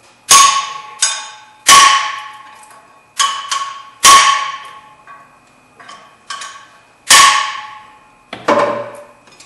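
A hammer strikes a car's fan clutch about eight times at uneven intervals, each loud, close blow leaving a brief metallic ring.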